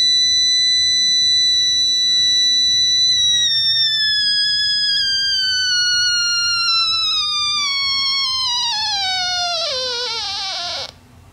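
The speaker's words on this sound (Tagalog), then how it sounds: "Yan ang tunog ng ating Isaki oscillator." An Esaki tunnel-diode oscillator circuit emits a clear, harmonic-rich electronic tone that steadily falls in pitch over about ten seconds, turning buzzy and rough before stopping abruptly; faint background hum lies underneath.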